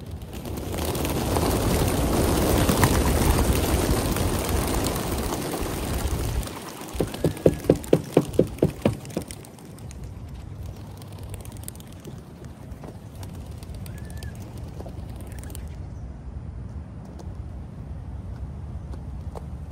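A flock of racing pigeons released at a four-mile one-loft race toss takes off in a loud rush of beating wings, followed by a short run of rhythmic wing claps, then fades into quieter outdoor ambience.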